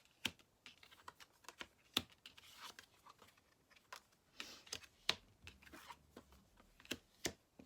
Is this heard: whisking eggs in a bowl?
no